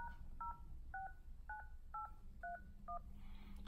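Eight evenly spaced two-tone beeps from the keypad of an iPhone's emergency call screen, each short and clear, followed by a brief burst of static, all fairly quiet over a low background rumble.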